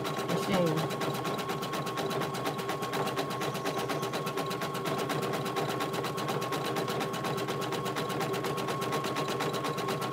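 An embroidery machine stitching a large patch runs with a steady, fast mechanical chatter throughout, close and continuous, while someone talks over it.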